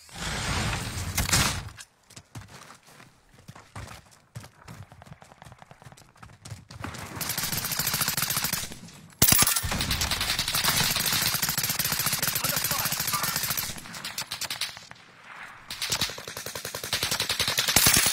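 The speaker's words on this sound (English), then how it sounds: "They're shooting at me." Automatic weapons fire in a shooter video game, loud rapid bursts of gunshots that stop and start across the stretch, with quieter pauses in between.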